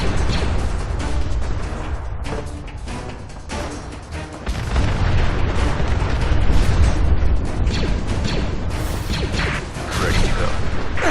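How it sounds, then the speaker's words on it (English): Nuclear weapons going off in a video game: heavy, continuous booming blasts and rumbling explosions that swell and stay loud throughout, with dense noisy bursts layered over one another. "Nuclear weapons deploying."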